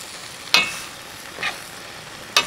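Food sizzles on a camping gas stove aboard a narrowboat, a steady frying hiss broken by three sharp spitting crackles, close and loud, with no talking.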